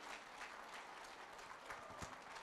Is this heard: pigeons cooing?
no